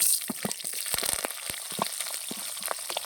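Mustard seeds pop and crackle in hot oil for Kerala-style mappas, a dense run of sharp sizzling bursts close up over a steady frying hiss.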